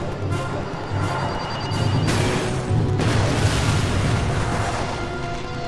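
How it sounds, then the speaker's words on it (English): A large explosion in the video game Ratchet: Deadlock, heard as a loud, sustained rumbling roar with crackling debris and a fresh burst partway through, filling the whole stretch without talk. "Check out that explosion!"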